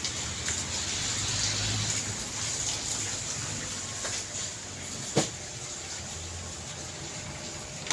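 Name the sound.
strong wind and rain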